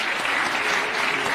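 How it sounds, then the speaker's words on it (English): An audience at a closing ceremony attended by a head of state gives steady, dense applause, loud and continuous across the whole moment. "A really warm round of applause for His Excellency."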